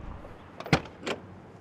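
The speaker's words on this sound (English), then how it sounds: "The doors open perfectly. They're not sagging any." Door of a 1969 GMC C1500 pickup truck with a 402 cubic inch big block opening, giving two short mechanical clicks and a latch clunk, close and moderately loud, with no talking.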